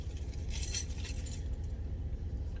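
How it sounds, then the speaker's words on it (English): A short burst of keys jangling as someone heads to a truck, a quick bright metallic clinking that fades within about a second against steady low road or engine rumble. "Let me go to my truck and my keys."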